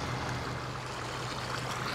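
Irrigation water flowing from siphon tubes in a farm ditch, a steady close rushing stream with a low hum beneath and no talk.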